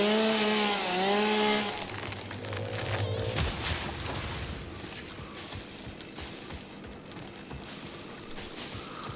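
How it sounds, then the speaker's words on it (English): Chainsaw felling trees in the video game Satisfactory, a loud steady buzzing whine that runs through the whole stretch, with a brief musical tone near the start. "Break out our friendly chainsaw."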